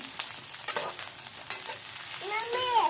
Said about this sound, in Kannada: ಚೆಂದಾಗಿ ಉಳ್ಳಾಗಡ್ಡಿ ಮೆಣಸಿಕಾಯಿ ಹಾಕಿ ಮೆತ್ತಗಾಗಿ ಫ್ರೈ ಆಗುತ್ತೆ ರೀ